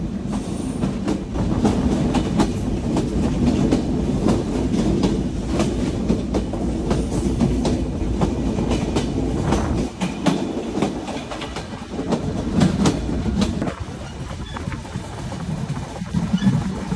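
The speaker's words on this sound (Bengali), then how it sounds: "আমাদের চিত্রা এক্সপ্রেস পাকশি স্টেশন এবং রূপপুর পারমাণবিক বিদ্যুৎ কেন্দ্রকে বাইপাস করে চলে যাচ্ছে" Chitra Express train running past Paksey station, a loud continuous rumble of wheels with rhythmic clickety-clack over the rail joints and a hint of wheel squeal as the carriages roll by.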